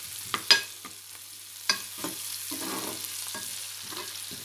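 Onions sautéing in a pan hiss softly and steadily while a utensil taps and stirs in a few sharp knocks, close by and with no talking.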